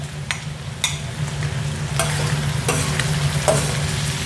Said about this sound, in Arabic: أبغى أنزل البصل، جزء من البصل بيعطيني تشقيرة طيبة